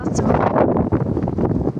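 Strong wind roars steadily against the microphone during a spring snowstorm, a continuous rough buffeting with no clear pauses.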